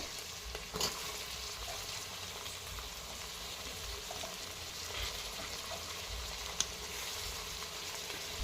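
Cauliflower, carrot and beans being stir-fried for veg pulao, a steady broadband sizzle with faint scraping from stirring, a couple of brief knocks, no talking.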